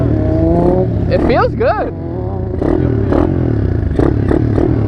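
A two-stroke 150 quad engine buzzes and revs in a rising and falling whine with mechanical clatter, close and loud. A person speaks briefly over it.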